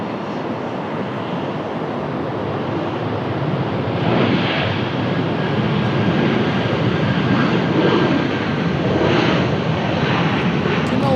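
A United airliner arrives at an airport, its engines roaring loudly and steadily overhead as the sound swells midway, with wind buffeting the microphone.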